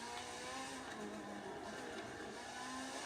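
A Porsche 911 Leichtbau racing the Nordschleife in Forza 7, its engine holding a steady, fairly faint high-revving drone with slight pitch shifts as the throttle is eased through corners.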